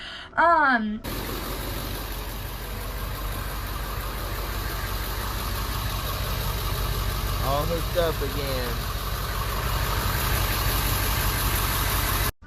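A bus engine idles steadily throughout, a constant low rumble with a faint rattling knock, while someone speaks briefly at the start and again near the middle.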